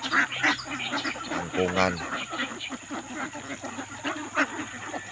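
Domestic ducks quack repeatedly at close range in their new pen, with a few honking calls mixed in, while someone talks over them throughout.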